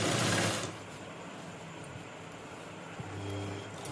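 Sewing machine stitching a binding strip onto a kurti's front neckline, running in a steady continuous whir from near, briefly pausing and restarting, with no talk.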